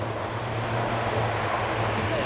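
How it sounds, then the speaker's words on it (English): An Airbus A400M military transport, the sixth development aircraft, flies a display at the RIAT 2015 airshow, giving a steady, fairly loud engine drone throughout with faint crowd sound beneath. "They're flying MSN-6, the sixth of the development aircraft."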